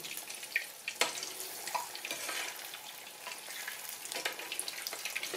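Cheese balls deep-fry in a pot of hot oil, a steady bright bubbling sizzle running throughout with occasional louder pops and crackles, close up and without any voices.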